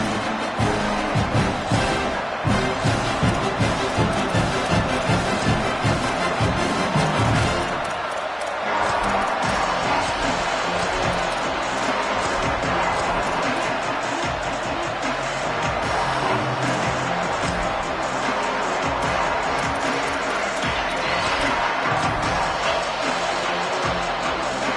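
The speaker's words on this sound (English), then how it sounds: "This crowd bringing an ear-splitting welcome to their visitors." Loud stadium crowd roaring in welcome at a prime-time football game, a dense, sustained wall of cheering with a broadcast voice talking over it.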